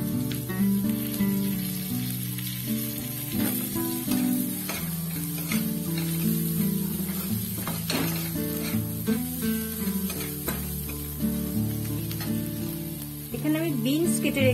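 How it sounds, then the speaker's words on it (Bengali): Onion sizzles hard in hot oil just after spices are tempered, for upma, a loud continuous crackle with stirring under a steady tonal layer throughout. "প্রথমে আমি পেঁয়াজটা দিয়ে দেব ফোড়নের পর।"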